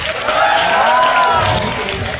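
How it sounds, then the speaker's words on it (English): Audience at a stand-up comedy roast of a drag queen applauds and cheers steadily, a dense, continuous wash of clapping and crowd noise that holds loud and even throughout. "Give a big round of applause to Barbie Pongteh for allowing me to roast her tonight."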